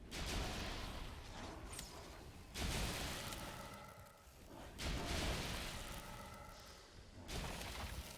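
NPC elves shoot in Valheim, four loud booming blasts with a whooshing edge arriving about every two and a half seconds, each trailing off into a fading rumble.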